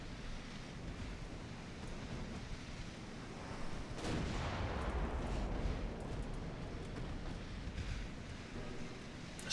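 Naval gunfire from a warship firing high explosive shells in the game Ultimate Admiral Dreadnoughts, a steady roar of distant cannon booms and rumble over surging sea-like noise, swelling louder midway through.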